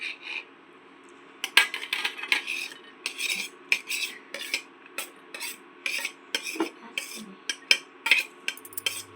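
Onion going into a bowl and being mixed, with a string of close, sharp clinks and scrapes of a metal spoon against the bowl in an irregular rhythm, heard alone.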